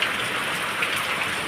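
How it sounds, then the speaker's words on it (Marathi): Steady rain falls at night during Diwali in a Maharashtra village, a constant broadband hiss of drops pattering on surfaces, fairly close and even throughout with no voices. "बघा हे पाऊस चालू झाला आमच्या इकडं"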